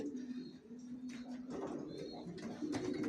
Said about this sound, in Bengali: এগুলো জনসনের লংয়ের, সব একই লাইনের একই ব্লাডের কবুতর পেলে আমার লফটে।